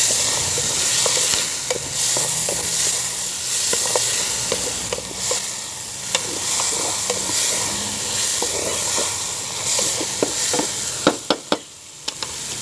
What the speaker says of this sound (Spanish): Voy a menear esto yo.